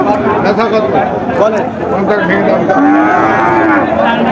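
Cattle at a busy cattle market moo loudly and close by, several drawn-out calls rising over a steady crowd murmur while people talk nearby.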